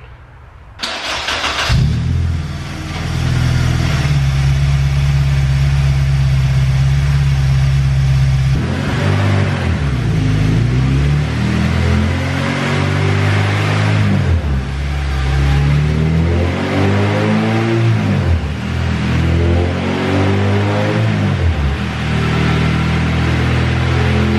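A K24-swapped Honda EK hatchback with an open throttle body runs on a dyno, the engine catching and idling loudly, then climbing through a long rising pull, dropping off and sweeping up again in repeated revs.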